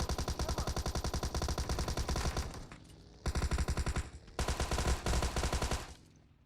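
Automatic gunfire in the mobile game PUBG Mobile rattles out in three loud, rapid bursts separated by short pauses, each a dense string of close, evenly spaced shots.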